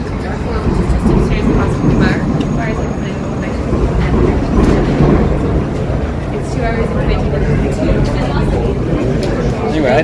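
Tram and buses passing along a busy city street on a breezy evening, a steady rumbling roll of traffic close by, with crowd chatter and voices over it throughout.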